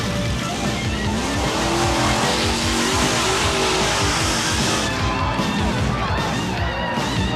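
Monster trucks roar and grind over crushed cars, engines loud and continuous with churning, crunching noise throughout.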